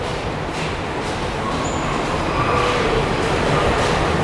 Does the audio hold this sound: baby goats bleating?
no